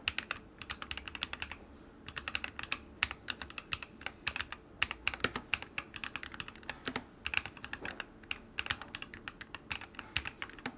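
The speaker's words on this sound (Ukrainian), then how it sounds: "у тієї клавіатури і цієї тайпінг максимально відрізняється" Typing on a gaming keyboard with an RGB-free wrist rest, a dense run of sharp key clicks and clacks in quick irregular rhythm, close and steady throughout with no voices.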